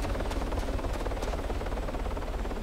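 A helicopter in the ArmA 3 video game makes a continuous, fairly faint rotor drone with a low steady hum and a faint regular beating throughout.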